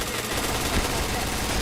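Dense, continuous automatic gunfire from the shooter game PointBlank fills the stretch in a steady, loud roar with no break.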